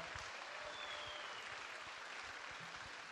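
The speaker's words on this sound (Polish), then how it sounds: "Wielkie brawa, drodzy Państwo." Steady, full applause from the audience at a Miss Wheelchair Poland pageant, continuous and evenly loud across the whole stretch with no voices over it.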